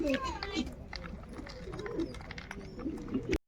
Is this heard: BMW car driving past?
no